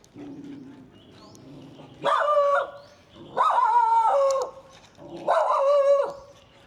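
A puppy lets out three loud, drawn-out yelping barks with short pauses between them, close by, over faint background noise.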